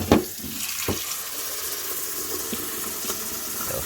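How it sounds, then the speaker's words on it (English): Water pours steadily into the container of an Aquibear RO water purifier with a soft, continuous trickling rush and a few faint clinks, close by. "Just fill it to the max. I'm gonna rinse it off a little bit."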